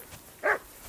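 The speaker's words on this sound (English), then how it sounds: "I assume you can hear that damn dog of yours barking." A dog in the medieval video game Kingdom Come: Deliverance gives a single short, fairly close bark against quiet background sound.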